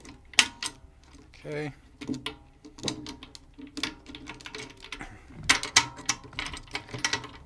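Metal drum lugs being hooked back onto the top hoop of a tom, a run of close, bright metallic clicks and clanks spread unevenly across the moment, with a brief spoken word in the middle.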